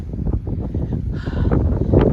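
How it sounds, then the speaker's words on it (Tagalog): Strong gusts at a winter beach buffet the microphone with a heavy, continuous roar, rising and falling over about two seconds with no other sounds standing out. "Grabe ang hangin ba?"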